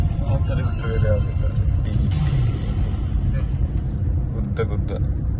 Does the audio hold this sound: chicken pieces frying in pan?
no